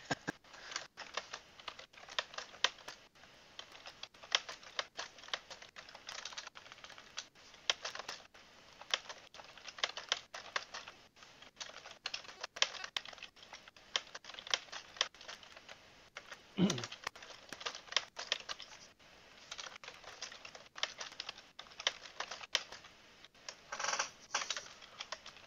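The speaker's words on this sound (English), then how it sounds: "Oh, he's typing." Typing on a computer keyboard, a long run of quick, uneven key clicks close to the listener, continuing steadily throughout with no voices.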